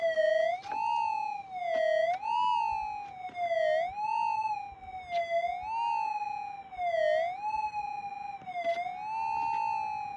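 A GPZ 8000 gold metal detector gives a steady target tone that wobbles up and down in pitch, with faint ground-noise ticks scattered underneath.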